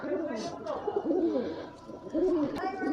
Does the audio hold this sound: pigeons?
yes